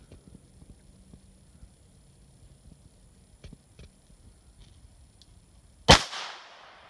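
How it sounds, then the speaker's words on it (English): A Ruger LCR revolver fires one sharp .22LR shot at a paper target about 5 yards away, a loud crack with a short decaying tail after several seconds of faint handling clicks. "I'm going to shoot this Ruger LCR"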